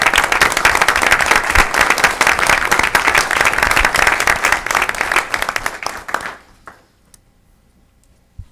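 A school board meeting audience claps for career and technical education teachers, steady dense applause for about six seconds that tapers off quickly into near silence.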